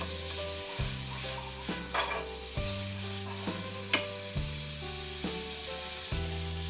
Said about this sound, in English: Here I'm going to fry for meat and onion